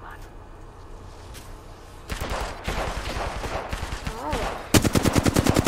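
Gunfire in Apex Legends Arenas ranked play, bursts of rapid automatic shots that grow louder and denser toward the end, with a player's brief exclamation and game sounds mixed in.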